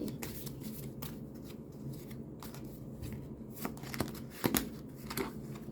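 Tarot cards being shuffled by hand in a quiet room, with soft repeated riffling and flicking and a few sharper snaps near the end, close and fairly faint.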